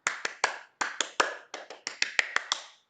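A classroom group claps in a quick rhythmic pattern, a series of sharp, crisp claps in short bursts with brief pauses between groups, close and clear.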